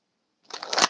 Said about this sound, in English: I just got to do a little bit of shuffling to prime the messages